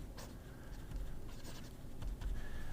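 A fountain pen with an 18 karat medium nib scratching across paper in short strokes, faint and close, over a low background hum.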